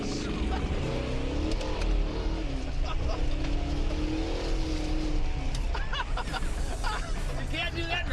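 A car engine revs loudly and steadily in the foreground while several people talk and shout over it.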